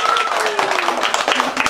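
A small audience at a magic show claps for a young girl called up on stage, a brisk, dense patter of hands close by, with some voices mixed in.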